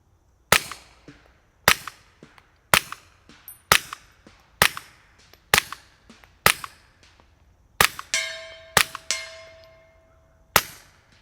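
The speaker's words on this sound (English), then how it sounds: "Now I got the Sig P322 with the Silly Cat EDG on top" A Sig P322 pistol fires through a Hansohn F4 suppressor, with about a dozen sharp, evenly spaced suppressed shots. Several are followed by ringing clangs of rounds striking steel targets.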